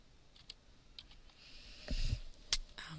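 Typing on a computer keyboard while entering text into a document, with scattered soft key clicks and a brief denser burst of taps near the end, close and fairly quiet with no talk.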